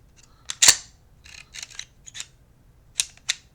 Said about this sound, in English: You see the trigger reset there.